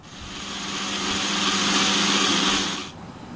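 A mixer grinder whirs loudly while blending fruit with sugar for juice, a steady motor drone that builds for about three seconds before cutting off abruptly, with no one talking.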